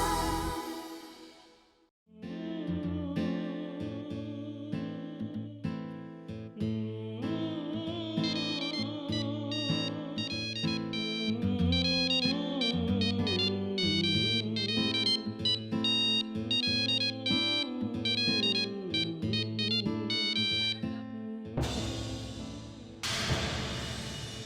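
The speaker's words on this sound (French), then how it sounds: "Pourquoi ne répond-il pas au téléphone?" Ringtone-style melody from a telephone in a dubbed drama series, playing loud and continuous for about twenty seconds before a short pause and a fresh burst.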